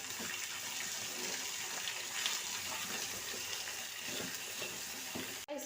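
Onions frying over a high flame with urad dal give a continuous, even sizzle and hiss that lasts the whole time with no voice over it.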